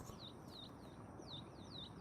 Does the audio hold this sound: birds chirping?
yes